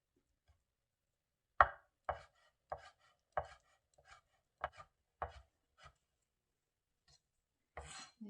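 Knife thinly slicing mushroom on a cutting board for rice porridge, about a dozen crisp separate cuts in an irregular rhythm, close and fairly quiet, with silence between strokes.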